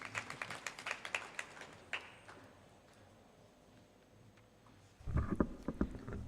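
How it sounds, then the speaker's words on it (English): Audience applause at an annual debate competition for a speaker called to the stage: scattered claps at first, fading to near quiet, then a louder burst of clapping near the end. "please give her a big round of applause"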